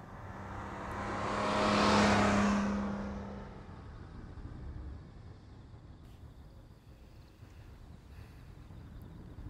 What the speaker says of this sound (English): A motorbike cuts past them, the pitch of its engine changing as it passes.